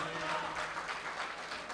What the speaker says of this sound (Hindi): ज़ोरदार तालियों के बीच इस्तकबाल करेंगे